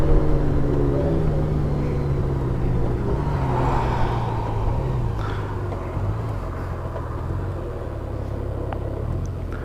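A Honda 1800 DCT motorcycle engine rumbles while riding along at modest speed, a deep steady drone whose pitch steps through a gear change, near and continuous with no talk audible.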